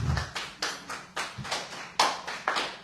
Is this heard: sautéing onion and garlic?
no